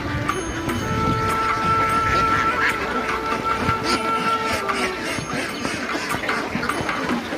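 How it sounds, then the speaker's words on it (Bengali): A large flock of ducks at a poultry farm quacks in a loud, dense, continuous chorus, close by, with overlapping calls filling the scene. "অনেক হাঁস।"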